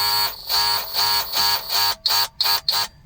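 A Dewalt DCS355 18 volt cordless multi-tool running in short oscillating bursts that start and stop in an uneven rhythm, the later pulses briefer and choppier, loud and close with no talking.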